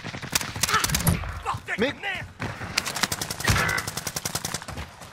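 Rapid automatic gunfire in Call of Duty Modern Warfare on Rebirth Island, with loud bursts of sharp repeated shots at the start and again from about three seconds on. Someone speaks briefly between the bursts.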